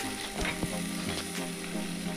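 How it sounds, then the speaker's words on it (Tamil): A ground tomato and onion paste sizzles steadily in an oil pan while a spoon stirs it, with soft scraping and a sharp clink near the end. "தக்காளி வெங்காயம் 1-2 அரைச்சி வச்சுருந்தோம்ல, அதை நம்ம ஊற்றி கிண்ட ஆரம்பிச்சிடணும்"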